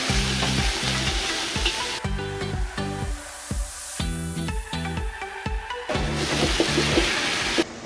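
Lobster claws frying with spicy garlic and shallot in a restaurant kitchen on seafood night, a loud steady sizzle broken by rhythmic clanking of a wok or utensil as the food is tossed and stirred.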